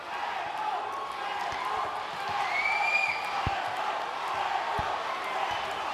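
Crowd cheering and noise filling an indoor volleyball arena during a Bengaluru Torpedoes versus Calicut Heroes match, a steady roar with a few sharp thuds and a whistle-like tone rising briefly.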